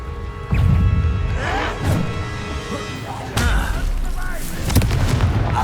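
A Confringo blasting spell explodes in Hogwarts Legacy, giving loud booming bursts with heavy thuds, one near the start and more later, mixed with a voice and spell effects.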